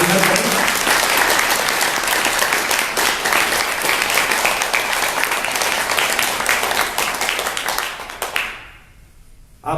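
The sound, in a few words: audience applause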